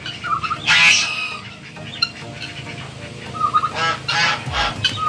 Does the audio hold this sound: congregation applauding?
no